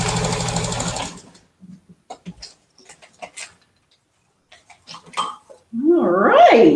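A sewing machine stitches sashing onto a quilt in a fast, steady whirring burst, drops to a few scattered ticks and clicks, then starts up again at the end, close and loud.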